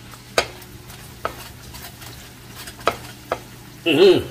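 Onions being fried in melted butter in a pan for goat caldereta, a soft continuous sizzle broken by several sharp utensil clinks and scrapes, then a louder burst of frying near the end.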